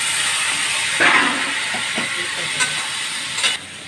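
Water poured into a hot pan with ginger paste while cooking a cauliflower, potato and fish curry, producing a loud, steady sizzling hiss with a few brief bubbling spurts, close up and without speech.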